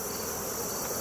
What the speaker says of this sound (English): This year's bees are doing really excellent.